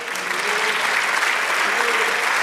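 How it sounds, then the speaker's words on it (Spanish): A church congregation applauds the Lord during a Spanish-language sermon, a dense, steady wash of clapping that holds at full strength throughout, with a faint voice under it. "Dale un aplauso al Señor"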